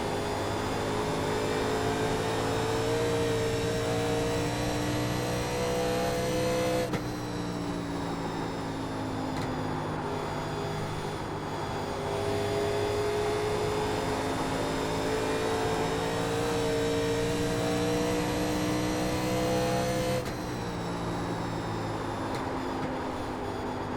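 Steady, loud drone of NASCAR race car engines in iRacing's 1987 NASCAR Legends at Dover, sustained high-pitched engine tone with shifting pitch as cars run close together, a couple of abrupt tonal changes, and no talking.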